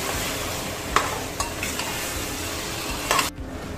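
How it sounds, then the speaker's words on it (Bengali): Mutton with green chillies and whole garlic cloves is stirred and coated in a pressure cooker, a steady scraping and sizzling texture with a few sharper scrapes of the spoon against the pot, close and continuous. "এখন আমি সবগুলোকে আমি মেখে নিচ্ছি, কষাই নিব আমি"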